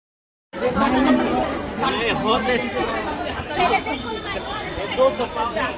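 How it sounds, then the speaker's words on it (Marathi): Dense chatter from a packed crowd at a college freshers party, many overlapping voices forming a steady, close babble that starts abruptly and holds throughout. "लई गर्दी आहे."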